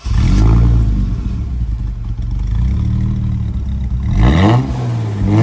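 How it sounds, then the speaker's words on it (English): An Alfa Romeo 6 2.5-litre V6 car engine revs up and down with a deep, throaty exhaust growl, loud and close, rising in pitch twice. "The exhaust note was unlike anything else in its class, a sonorous growl"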